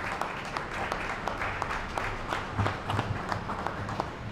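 Audience applause at a French-language ceremony for innovation and civic leadership awards, a moderate, somewhat distant patter of many hands clapping steadily throughout.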